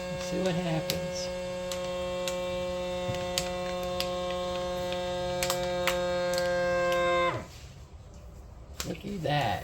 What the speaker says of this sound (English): Vacuum seal it.